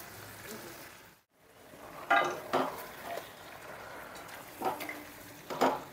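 Gravy being added to fried chicken legs in a pan for chicken chaap, with soft sizzling, a few sharp clinks of a utensil against the pan and quiet stirring scrapes, close and fairly faint.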